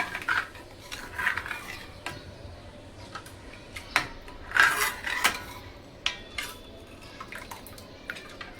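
Spoon stirring Konkani pedi fish curry in a metal pot, making sparse light clinks and scrapes with quiet gaps between them, close by and fairly faint.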